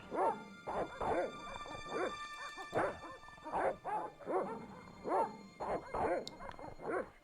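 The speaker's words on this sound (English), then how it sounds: "There's dogs there." Dogs in the Broken Sword: Shadow of the Templars video game bark in a rapid, irregular series of sharp yips and barks at moderate distance, some with a whimpering edge, continuing alone without talk.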